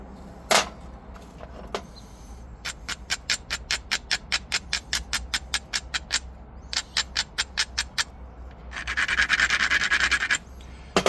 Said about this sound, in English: Using the brass flaker on this because this is some hard rock.